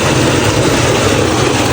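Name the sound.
tubewell pump engine running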